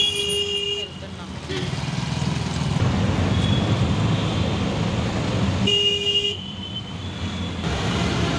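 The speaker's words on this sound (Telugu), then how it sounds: "ట్రాఫిక్ ఎక్కువగా ఉంది" Heavy road traffic near a market, with a steady drone of passing vehicles and two sustained car horn blasts at the start and again near the end, while people talk underneath.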